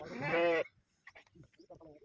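A single loud sheep bleat up close as sheep are dosed with medicine, followed by quieter voices talking in the background.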